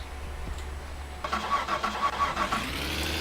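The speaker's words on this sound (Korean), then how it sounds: "아 시동 걸었다" A car engine cranks and catches in the driving simulator game My Summer Car, with a low idle hum beneath a rhythmic series of starter-like pulses, moderately loud, with no talking.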